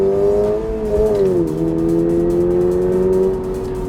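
A 2023 Toyota GR86 with a six-speed manual accelerating at full throttle, its engine note loud and close, climbing steadily in pitch, easing briefly, then rising again.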